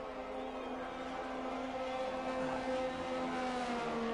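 Race car engines roar steadily in a Formula 1 video game at the Mexico Grand Prix on a wet track, a continuous droning whine with a slight rise in pitch partway through, loud and alone.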